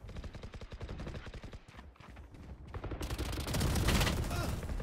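Rapid gunfire from a Valorant team deathmatch, a dense run of sharp shots that turns into a louder, sustained burst of fire near the end.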